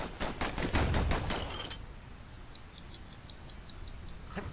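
Dual slinger pistols fire in rapid succession in the video game Bastion, a burst of sharp, loud, evenly spaced shots in the first second and a half, followed by a quieter run of light ticking clicks.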